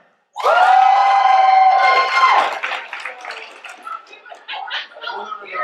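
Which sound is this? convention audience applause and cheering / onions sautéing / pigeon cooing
convention audience applause and cheering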